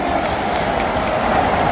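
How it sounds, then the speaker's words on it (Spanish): A dense stadium crowd at a Mallorca versus Girona football match at Son Moix, steady loud wash of clapping and crowd noise throughout with no pauses. "Som molts aplaudint."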